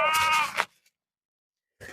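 A sheep lets out one loud, close bleat lasting about half a second, followed by silence and a short burst of noise at the end.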